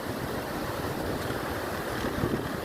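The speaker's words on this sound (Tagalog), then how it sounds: "Sabi nila ang alon daw dahil sa hangin." Sea waves and strong wind on the shore at Claveria, Cagayan, a steady broadband roar of surf and gusting wind buffeting the microphone, continuous and fairly close with no talk.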